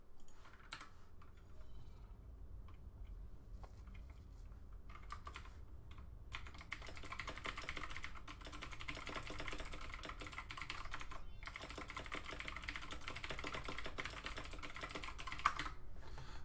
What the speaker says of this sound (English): you will hear the keyboard a lot more, since it's a mechanical keyboard